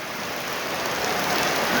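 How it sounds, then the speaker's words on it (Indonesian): Heavy rain pours down steadily in Embuk hamlet, Pesanggra village, during flash flooding, a dense, loud, unbroken hiss that swells slightly without any voices. "Ya hujan kembali besar."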